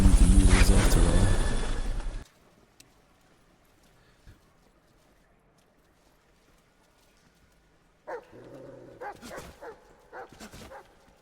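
A dog barks in Metal Gear Solid Delta: a loud burst of game sound opens, then near-silence, then a run of sharp, close barks near the end.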